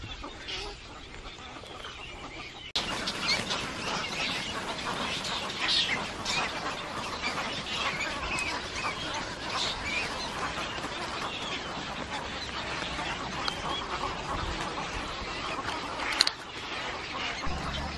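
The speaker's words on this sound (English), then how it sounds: "Y'all see this bird rookery?" At a waterside bird rookery, many birds call at once in a continuous squawking, clucking chorus. The calls stay at a busy level with occasional louder bursts, and no one speaks.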